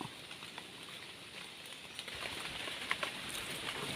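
Heavy rain pours down in a steady, dense hiss, with scattered louder drops tapping close by and no voices.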